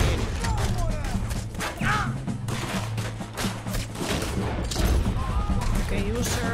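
Repeated gunfire in Red Dead Redemption 2, a rapid string of loud close shots in uneven bursts, with game voices and a player talking over it.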